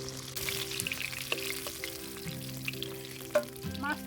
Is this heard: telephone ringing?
no